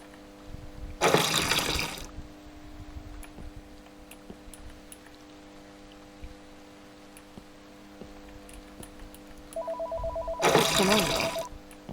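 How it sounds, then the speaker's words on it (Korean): A phone ringtone plays loud and close in two short bursts about nine seconds apart, over a steady wash of running water and low hum. "오케이 전화 받기 잠시만 기다리세요"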